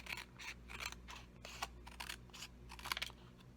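Scissors snip through paper pieces for a greeting card with birds and greenery, a run of close, crisp cuts in an irregular rhythm over faint low background hum, no talking.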